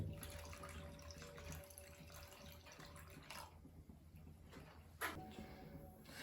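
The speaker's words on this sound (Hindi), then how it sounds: "दूध इसमें डाल दिया, इसको हल कर देंगे।" Milk pours into a pan on the stove while making syrup for makhandi halwa, a steady faint liquid trickle and splash running for several seconds, with a few louder clinks near the end.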